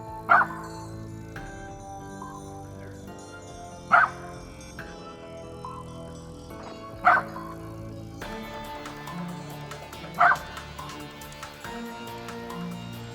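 A dog barks in single sharp yelps every few seconds, moderately distant in a snowy forest, over a steady background hum.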